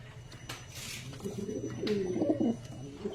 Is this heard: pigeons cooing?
yes